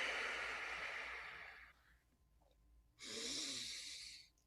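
A person breathing through a meditation exercise: a long, airy, close exhale that fades into near silence, then a second strong breath rushes in, with no talk.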